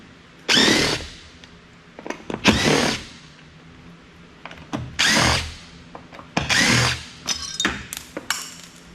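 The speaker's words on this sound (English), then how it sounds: "Now the side piece looks like it should unscrew pretty easily." A power driver whirs in several short bursts of a second or two each, backing out screws from the side piece of a dentist chair, with clanks and taps of metal hardware between the bursts.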